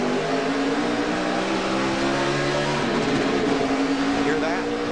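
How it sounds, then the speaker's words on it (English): A NASCAR Camping World Truck Series race truck engine holds at its rev limiter at Nashville, a loud, steady, buzzing drone that barely changes in pitch for the whole stretch. "That was the rev limiter. It kept the engine from going way out of sight"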